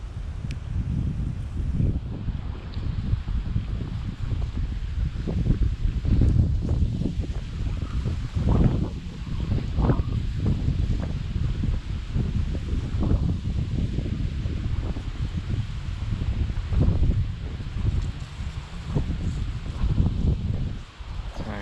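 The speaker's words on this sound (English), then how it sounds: "Still very windy today." Strong, cold wind blows outdoors on a fishing day during a dust storm, buffeting the microphone in a continuous rough roar with rustling gusts for about twenty seconds and no talking.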